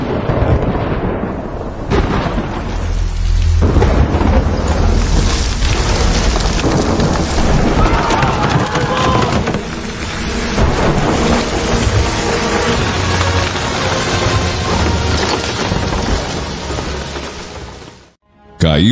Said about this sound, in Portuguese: o Senhor fez vir trovões e granizo, e raios caíam sobre a terra